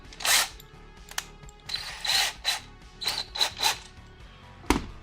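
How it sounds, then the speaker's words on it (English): A drill spinning a leather punch whirs in several short bursts with pauses between, a close mechanical spinning that starts and stops. "Almost all my punches get a turn in the drill every once in a while"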